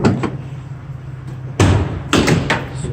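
Rear door of a 2017 Ford Transit T-250 mid-roof van swinging open, a couple of loud, close thuds and latch clunks over a low steady hum, with no talk.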